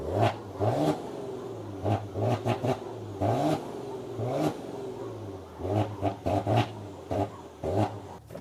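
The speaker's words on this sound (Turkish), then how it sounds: "Buradan sport aldığınızda egzoz valfleri açılıyor ve ses hemen değişiyor." A Maserati Levante twin-turbo V6 petrol SUV engine revving repeatedly in sharp blips with sport-mode exhaust valves open, rising and falling, close by with exhaust rumble between throttle bursts.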